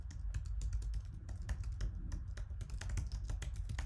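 Quick, uneven clatter of keys on a computer keyboard as a website address is typed, a close, steady run of light taps with no voice over it.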